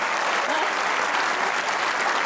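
Studio audience applauding steadily at an Eid special comedy talk show, a dense, even wash of clapping filling the whole stretch with no voices over it.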